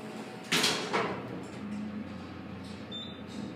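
An Otis elevator door slides open with a brief rush and clunk near the start, followed by a steady hum and a short high chime tone near the end.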